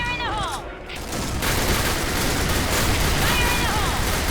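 AN-94 rifle fire in the Point Blank shooter game, a dense, loud crackle of continuous shooting with a brief lull near the start, under faint voice.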